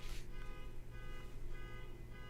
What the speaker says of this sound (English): Somebody's car alarm is going off.